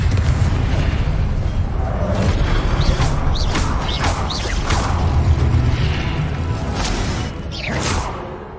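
A Confringo explosive spell cast in the Hogwarts Legacy video game, a loud sustained rumbling blast with whooshing bursts and crackling debris, fading near the end with no speech over it.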